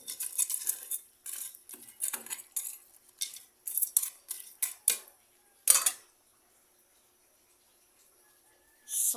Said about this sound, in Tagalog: At ilagay na natin yung ating alimasag.